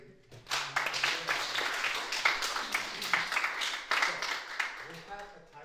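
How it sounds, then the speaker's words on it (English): Applause for someone at a hotel gathering, a moderate, fairly distant patter of clapping hands that swells and continues steadily, with voices mixed in. "an applause for the brave."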